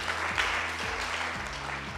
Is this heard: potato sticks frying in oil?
no